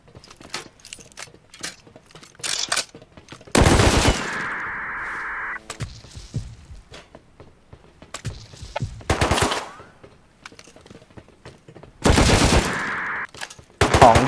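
Bursts of automatic gunfire aimed at a helicopter in the survival game Rust on a zombie server, coming in several loud, dense volleys separated by quieter gaps filled with scattered clicks and shots.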